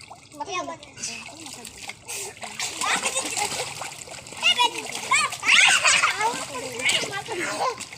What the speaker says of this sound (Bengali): দেখো এরকম করে নিজে মাথায় জল এরকম করছে।